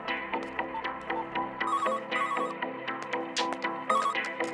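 A telephone rings in an office scene with a bright, repeating electronic melodic tone and quick chiming notes, loud and close, with no voices over it.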